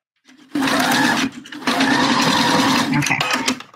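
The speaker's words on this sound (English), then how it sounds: "I'm just gonna run a stitch across the top here" Sewing machine runs a stitch across the top of a bra, a steady motor whir in two close, loud runs separated by a brief pause, with a low hum underneath.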